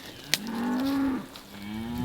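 A cow on a farm lets out a long, loud, drawn-out moo that rises and then sustains, followed by a second lower moo, with a sharp click near the start.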